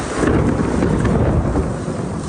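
Thunder rumbles in a village during the first monsoon rain, a loud low roll heard alongside rain and wind buffeting close to the microphone. No one speaks.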